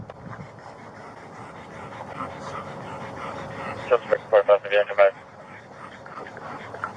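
Dogs trapped in a hot Lexus under blazing sun whimper and yip in a quick burst of high, strained cries, with panting in the background while people talk nearby.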